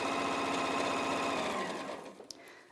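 An Elna 720 Pro sewing machine stitches a fabric bag, a fast steady mechanical whir that winds down and stops near the end, followed by a couple of small clicks.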